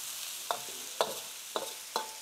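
Already-cooked gluten-free noodles tossed in a wok for a chicken and oyster sauce stir-fry: four evenly spaced scraping stirs over a soft, quiet background sizzle, with no talking.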